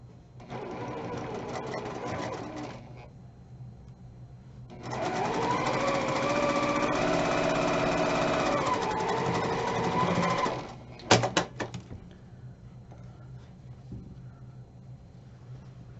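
Sewing machine piecing a quilt block: two steady motor-driven runs of rapid needle stitching, the second longer and louder, then a few sharp mechanical clicks and quiet, close and alone without talk.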